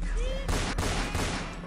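Ray gun shots from a Roblox battle game crack off as a quick burst of several loud, sharp blasts, preceded by a brief rising synthetic tone.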